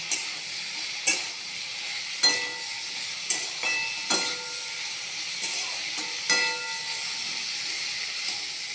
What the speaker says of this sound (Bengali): ভালো করে নেড়ে চেড়ে ভালো করে ভেজে নেব।